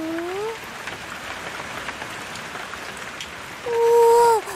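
Rain patters steadily on a surface as a soft, continuous hiss of drops, framed by brief tonal sounds at the start and end; no one speaks.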